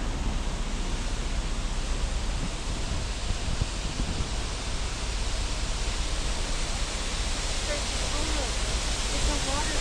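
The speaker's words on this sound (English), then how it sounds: "It's a waterfall." A waterfall in Glacier National Park roars in a steady, dense wash of falling water that stays at one level throughout, with no break and no voices.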